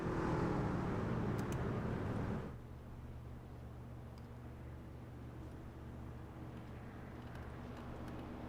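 Racing truck engines at the Eldora dirt track in the iRacing simulator give a steady drone, loud and dense for about two seconds before dropping to a quieter, sustained rumble.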